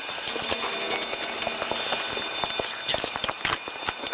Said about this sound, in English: it's a false alarm.